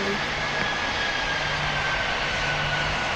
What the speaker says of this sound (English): Okay, I'm gonna deploy my landing gear and landing.